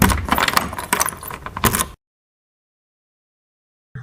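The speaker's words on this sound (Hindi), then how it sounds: "चे से चाबी।" A cartoon sound effect of keys jangling: metallic rattling and clinking for about two seconds, loud and close, then silence.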